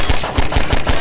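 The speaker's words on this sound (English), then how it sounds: "where am I getting shot from?" Rapid automatic gunfire from Half-Life 2, loud and close, with about five evenly spaced heavy bursts in one second and no talk.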